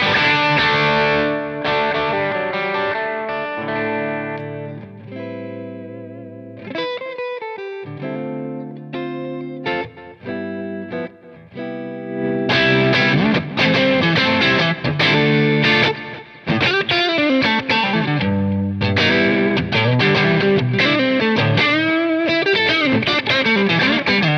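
An electric guitar through a Klon Centaur overdrive pedal plays chords and riffs, gritty and sustained, with a few short pauses and a heavier, more saturated passage later on.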